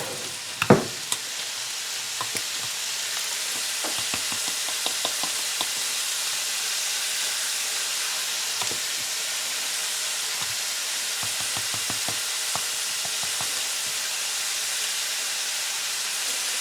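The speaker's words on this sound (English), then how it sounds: "we're going to stir this around and let it cook for a minute or so" Ground hamburger and flour sizzle steadily in a frying pan, a constant close hiss broken by occasional clicks and scrapes of stirring, with one sharper knock near the start.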